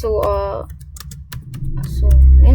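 Close, quick clicking of computer keys being typed in short bursts while a voice talks over part of it.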